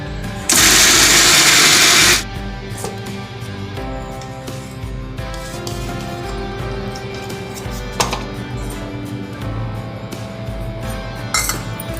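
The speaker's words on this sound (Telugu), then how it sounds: "మిక్సీ జార్లో టమాటో ప్యూరీ కూడా రెడీ చేసుకోవాలండి" A mixie jar grinds four tomatoes into puree in a loud, steady whirring burst lasting under two seconds. Clinks, taps and handling of the jar and kitchen utensils follow for several seconds.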